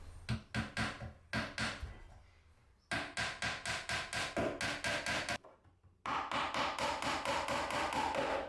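Nails being hammered into small wooden strips on a garden planter: quick runs of sharp, close hammer blows in rapid series, broken by short pauses, then a final sustained flurry.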